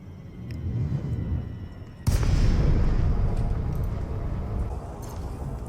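A gimballed multi-cannon on a spacecraft in Elite Dangerous opens fire with a sudden loud blast, then keeps up a dense, rumbling stream of shots that slowly fades.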